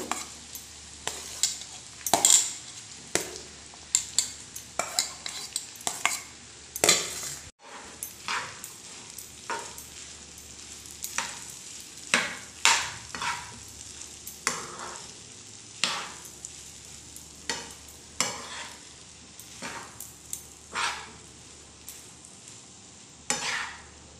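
Grated steamed amla and ginger frying in a pan are stirred repeatedly, each scrape of the spoon rising above a soft sizzle in irregular bursts, with one brief pause partway through.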